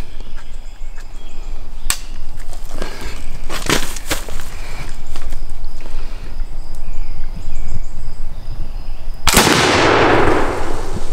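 A flintlock musket fires once near the end: a loud, sharp, broadband blast with a quick decay. Before it come a few faint clicks and handling sounds over low outdoor background noise.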